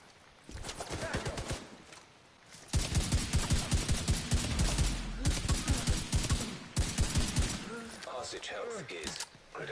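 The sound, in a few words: SIG 716 rifle gunfire in video game The Division 2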